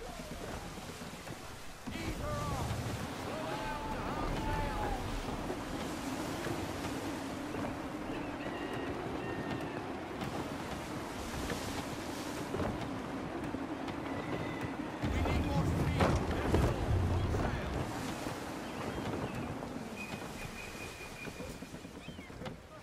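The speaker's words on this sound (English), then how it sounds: "Gusty winds can be difficult to manage." Gusty wind at sea in the video game Assassin's Creed III, a continuous broad roar of wind with water wash around a sailing ship, steady throughout, with a voice talking over it.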